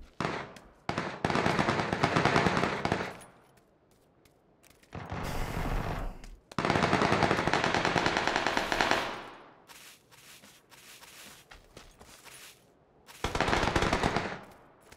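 Automatic gunfire in PUBG during close-quarters urban fighting: several loud, sustained bursts of rapid shots separated by short quiet gaps, alone with no voices.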